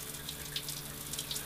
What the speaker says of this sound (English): Hot water! Hot water! First time in 7 years I've had a shower.